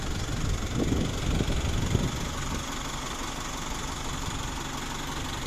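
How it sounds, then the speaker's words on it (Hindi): A Japanese Suzuo truck's engine idling steadily and close, a low continuous rumble with a constant hum. "गाड़ी स्टार्ट है बिल्कुल, इंजन का बहुत ही प्यारा साउंड दे रहा है"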